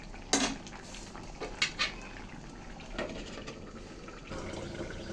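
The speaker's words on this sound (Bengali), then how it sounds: "ঢাকনা তুলে নিচ্ছি" A lid comes off a cooking pot of vegetable curry with greens: a sharp metallic clank, then a few lighter clinks of metal over a steady low kitchen background.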